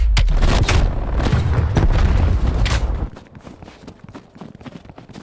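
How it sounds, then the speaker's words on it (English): A frag grenade blast in Call of Duty Black Ops Cold War, a loud, deep booming explosion that rumbles for about three seconds before fading into quieter game ambience. "Throwing frag."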